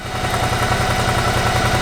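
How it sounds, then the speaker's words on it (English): Motorcycle engine running with the radiator cooling fan on, a steady close idle with a rhythmic low pulse under a constant whirring hiss. "As you can hear, the fan has kicked in and it just stopped"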